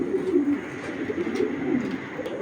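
A grizzle pigeon pair cooing close by, soft repeated low coos rising and falling over a steady background hum, with no talking.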